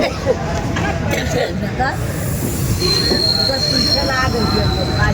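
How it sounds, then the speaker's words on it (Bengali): A crowded train pulls out of a station in Prayagraj on the way to the Mahakumbh festival, its wheels squealing and a long high screech rising over rumbling carriages, crowd babble and nearby talk. "যে ট্রেনটায় যাওয়ার কথা ছিল সে ট্রেনটায় এই যে বেরিয়ে যাচ্ছে"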